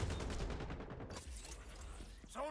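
Rapid bursts of video game gunfire crackle through the first second in a fast, clattering string, then give way to quieter scattered shots and rustling. Sound stays moderate, with no talk.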